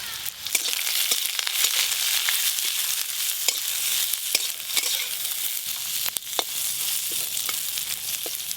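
Ginger, garlic and whole spices fry in hot oil in a village kitchen, a loud continuous sizzle and crackle with frequent stirring scrapes and small pops throughout, no voices.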